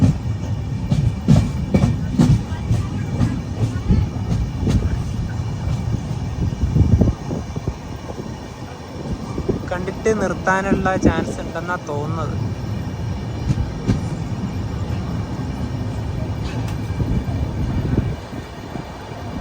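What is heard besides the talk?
Madhya Pradesh Sampark Kranti Express train arriving at Madhura Junction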